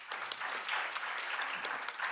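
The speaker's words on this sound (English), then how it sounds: "Can you give very warm applause" Warm applause from an audience at a workshop on fair minimum wages, steady clapping throughout, fairly distant and moderately quiet, with no talking over it.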